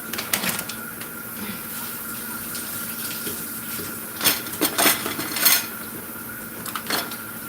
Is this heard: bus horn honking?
no